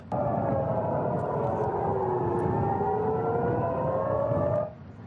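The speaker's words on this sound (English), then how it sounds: "Those are sirens that rang out in Jerusalem" A loud, wailing air raid siren in Jerusalem during Iranian missile strikes rises and falls steadily for several seconds, sustained and alone, then cuts off near the end.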